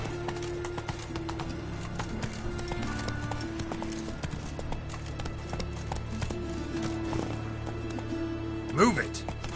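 Hoofbeats of Geralt's horse Roach galloping steadily in The Witcher video game, a rhythmic clip-clop under game music, with a brief whinny near the end.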